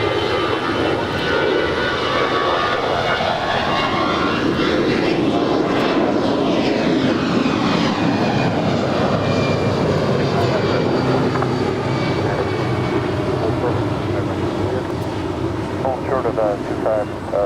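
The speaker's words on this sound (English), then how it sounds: "Next departure is Alaska Airlines Flight 208 heading to Cabo in an A320." An Alaska Airlines Airbus A320 jet departs LAX with a loud, sustained engine roar that swells and sweeps past, with air traffic control radio chatter over it.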